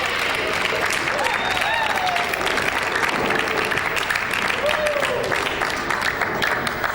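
A crowd at a 2001 Weber Cup bowling match bursts into sustained, dense applause and cheering after a Norwegian player's strike, with whistles rising above the steady clapping throughout.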